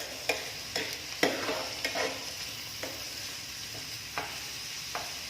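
Crushed ginger and garlic stirred in a hot pan with sizzling frying, a spoon scraping in several distinct strokes over a steady hiss, close and fairly loud, with no talking.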